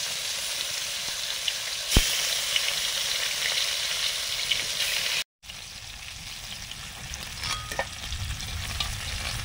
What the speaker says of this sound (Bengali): মাছগুলো ভাজছি।